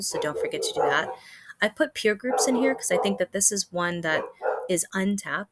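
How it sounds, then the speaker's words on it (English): Dogs bark and yip in the background of a home setting while someone speaks steadily over them, the barking mixed under her voice. "I apologize for the dogs in the background."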